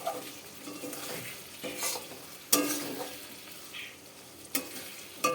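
Spiced food sautés in a pan while a spoon stirs it, giving a steady sizzle broken by sharp scraping knocks against the pan at irregular intervals, heard close and fairly quiet with no voices.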